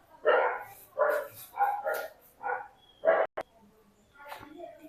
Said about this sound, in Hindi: अरे यार कुत्ते भौंक रहे हैं ज़्यादा।